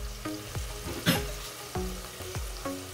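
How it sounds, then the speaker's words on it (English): Rice and onions sauté in a hot pan, giving a steady soft sizzle broken by several sharper stirring scrapes at intervals, close up and with no talking. "You can also toast the rice, which is what I'm gonna do right now with the onions"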